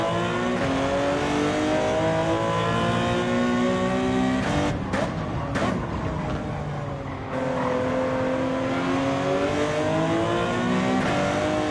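Race car engine in Gran Turismo 7 climbing through the revs, loud and close, with rising harmonic whines, a brief dip and crackle around a shift, then pulling steadily again.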